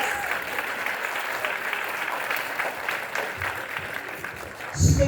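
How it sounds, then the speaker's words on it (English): Sustained audience applause for a middle school honor band at a spring concert, steady and full, with a brief louder thump near the end. "let's give them a round of applause"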